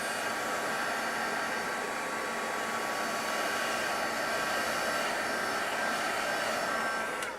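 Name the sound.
dryer drying Pentart crackle medium on a paper tag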